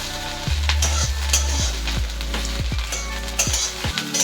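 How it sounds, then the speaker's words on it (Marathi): Corn kernels frying in oil in a pan, with a steady loud sizzle and repeated scraping strokes of a spatula roughly every half second, close up and with no talking. "तेलामध्ये मस्त सर्व आता हे भाजले, फ्राय करून घ्यायचं."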